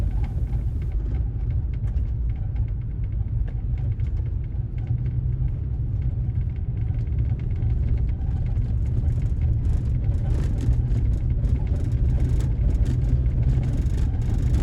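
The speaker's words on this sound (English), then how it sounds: "that's my truck, because the roads are very bumpy because they're all gravel roads." A truck rolls over bumpy gravel roads through farm country, making a steady low rumble and rattle heard from inside the cab, continuous and fairly loud with no talking.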